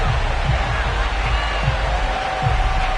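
Loud, steady roar of a sellout stadium crowd in an EA Sports football video game before an Atlanta Falcons versus Tennessee Titans matchup, a dense wash of cheering with no break.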